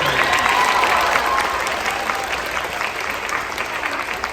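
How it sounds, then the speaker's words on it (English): Audience of about 400 applauding jazz band soloists at a school spring concert, a dense, loud and sustained crowd clapping that fades slightly toward the end. "Round of applause for the soloists tonight, ladies and gentlemen."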